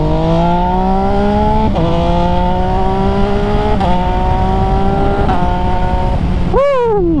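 An MV Agusta motorcycle accelerates hard on a night ride, its loud engine note climbing steadily through several gear changes before a sharp drop as it backs off, recorded close.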